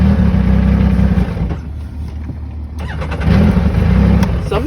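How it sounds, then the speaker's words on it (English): A 2020 Yamaha YXZ1000R side-by-side fitted with a GYTR turbo kit revs loudly up close, its engine note rising, dipping back and then building again as the throttle is feathered. "Sometimes if I feather the throttle, that's how I can get it to build RPMs."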